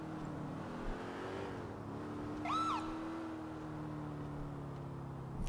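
A car driving in GTA V: steady engine drone with harmonic tones rising and falling as revs change, joined midway by a brief high, wavering whine, continuous and fairly close with no talk.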